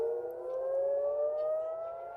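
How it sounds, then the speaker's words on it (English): A civil defense siren sounds over Haifa, Israel, one sustained wailing tone that slowly rises in pitch, heard from a distance with nothing else over it. "You can hear the sirens going off here in Israel."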